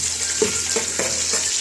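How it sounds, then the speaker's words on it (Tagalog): Ginger and onion sauté in hot oil for tilapia soup, a steady close frying crackle with several soft stirring scrapes at intervals. "Yan mga lods, nagpainit na tayo ng mantika. Gigisa natin ng luya."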